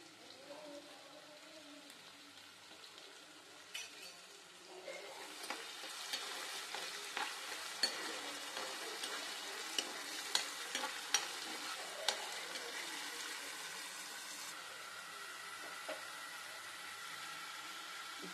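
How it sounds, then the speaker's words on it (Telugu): Onions frying in hot oil in a pan for a mutton masala curry, a steady broad sizzle that swells louder partway through, with clinks of stirring over the crackle and no talk. "ఆయిల్ వేడెక్కాక దీంట్లోకి మనము ఆనియన్స్ వేసుకుందాము."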